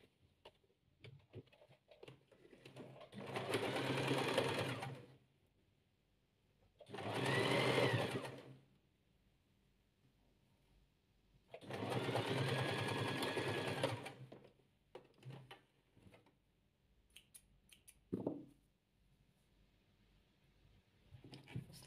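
A sewing machine stitches patchwork from slippery fabric in three long, loud whirring runs with quiet pauses between, followed by a short final burst.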